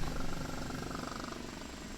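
An OH-58D Kiowa Warrior helicopter in DCS World, slowing down on approach, heard as a steady, fast-pulsing rotor chop with a low engine drone, even and continuous.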